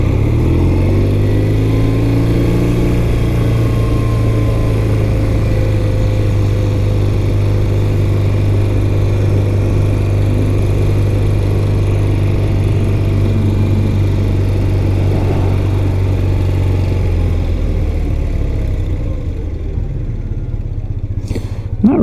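A 1993 BMW R100GS Mystic Red motorcycle runs at a steady, loud, close drone, its engine note dipping slightly near the end before a brief knock.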